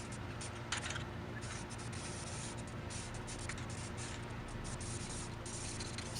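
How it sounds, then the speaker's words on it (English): Rust-Oleum clear coat sprayed from an aerosol can onto a restored Delta 14-inch bandsaw in a workshop, a steady close hiss running throughout with a few brief louder bursts. "protect it while I can with some clear coat"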